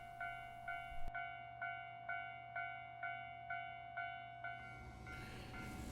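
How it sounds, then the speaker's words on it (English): A level crossing bell rings at a steady repeated rhythm near a railway line on a gradient toward Hiroshima, then stops as a freight train begins to pass with a rising broadband rush. "this is a freight train, and this is heading down the gradient, so towards Hiroshima"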